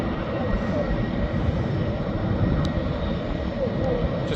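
An airplane at an airport readies for takeoff, its engine giving a steady, continuous rumble at moderate distance with no break, and faint background activity around it.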